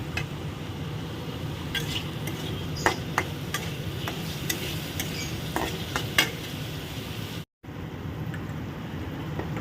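Onions frying in a pan with turmeric, cumin powder and salt give a steady sizzle, with a spatula scraping and stirring close by in a run of irregular clinks.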